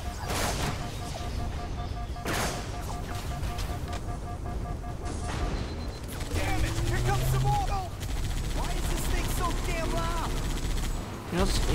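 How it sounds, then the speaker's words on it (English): Rapid machine gun turret fire rattles through a Halo 3 firefight, dense bursts mixed with other battle noise and a passing vehicle-like drone, fairly steady throughout. "these two have amazing guns, and they'd rather use the machine gun turret."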